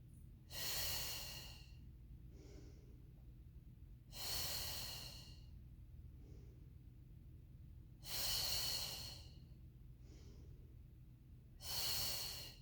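Slow, deep breaths during a Pilates mat exercise, four long airy exhalations about four seconds apart, each followed by a fainter short inhale, close and steady over quiet background music.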